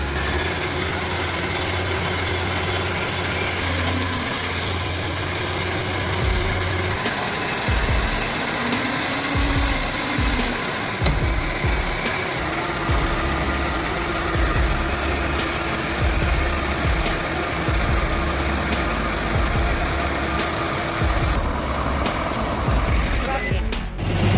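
A heavy Isuzu truck loaded with wood labors steadily climbing slowly uphill through soft soil, a deep continuous drone with occasional hiss and clatter, close by for the whole stretch.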